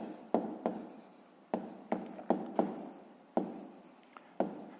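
Pen or pencil writing by hand on paper while working a fifth-grade math exercise, a steady close scratching in short strokes broken by several brief pauses as the pen lifts.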